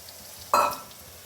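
Cashew paste sautéed in a pan gives one short, loud hissing sizzle that rises suddenly and fades within a fraction of a second, with quiet before it and no voices.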